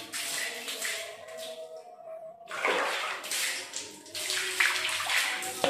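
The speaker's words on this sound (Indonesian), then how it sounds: "selanjutnya kita siram-siram dulu biar dia basah ya, lembab gitu" Water splashed over bathroom surfaces, bursts of hissing, splattering spray broken by a short pause, close and fairly loud, with no voices.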